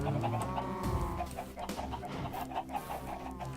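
Video game chickens clucking in a farmyard, several birds chattering in overlapping clucks at close range, with no talk.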